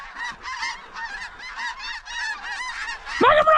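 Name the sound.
specklebelly geese honking during hunt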